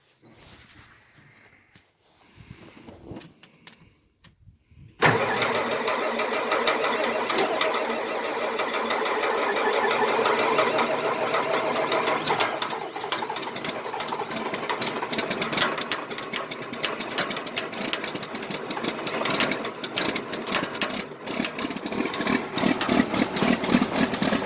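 An old John Deere engine in cold weather cranks briefly, then catches and settles into a loud, steady, rapid chugging idle that runs on for about twenty seconds.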